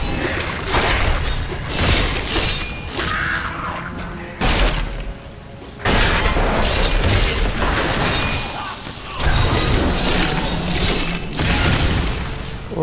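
A necromancer's corpse explosion in the video game Diablo 3 sets off dense, loud, rumbling bursts and crashing blasts that roll on for several seconds, dropping briefly in a couple of spots before the barrage resumes.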